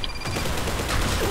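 Rapid gunfire in a tactical first-person shooter match, a loud, dense burst of overlapping shots filling the whole moment with no pause.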